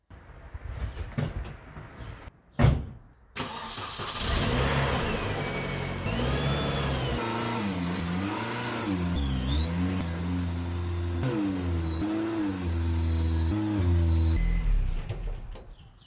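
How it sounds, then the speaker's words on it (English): A car starts up inside a small workshop shed, then its engine revs and idles as it is driven out, the pitch rising and dipping through several throttle changes before it cuts off, close and fairly loud. "Let me get the car out of here"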